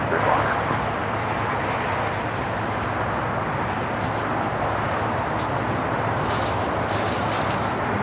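Cargo planes at LAX, including a 777 freighter, roar steadily in the distance as they take off from the south-side runways, a broad continuous jet rumble.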